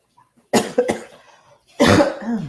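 Three loud, close coughs: two quick harsh bursts, a short pause, then a longer, heavier cough.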